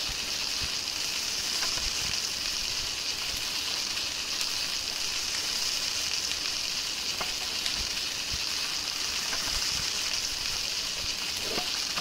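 Mushrooms fry in a pan in the Palworld video game, giving a constant bright sizzle and crackle with occasional small pops that keeps steady throughout with no voices.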